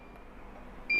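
Metravi insulation tester giving a short, clear electronic beep during a test, a single faint high tone arriving at the very end of a quiet stretch.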